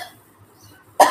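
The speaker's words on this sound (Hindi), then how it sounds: "इस तरह यदि खांसी आती तो पहले खांसिए" A single sharp cough bursts out near the end of a quiet yoga session, close and loud after near silence.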